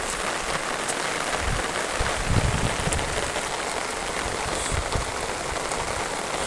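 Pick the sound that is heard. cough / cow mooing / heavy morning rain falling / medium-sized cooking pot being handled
heavy morning rain falling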